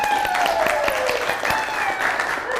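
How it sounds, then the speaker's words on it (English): An audience at a live charity event claps and cheers in a short, dense burst of applause while a voice carries over the top. "I know that we need a big round of applause now to keep everyone going."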